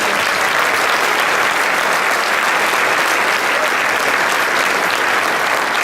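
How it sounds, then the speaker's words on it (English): Loud, dense audience applause fills the room without a break at a business awards and hall of fame ceremony, as a crowd claps for event sponsors. "a big round of applause to them for making this possible"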